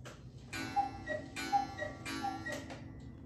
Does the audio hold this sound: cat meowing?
no